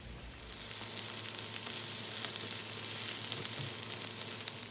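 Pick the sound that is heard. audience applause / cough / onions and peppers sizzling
onions and peppers sizzling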